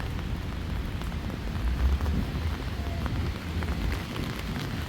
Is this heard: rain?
yes